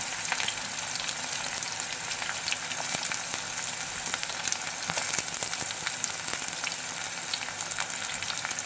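Chopped onion sizzles and fries steadily in a pan on low heat for a Konkani-style prawn and potato curry, a dense, continuous crackle with small pops and no voices.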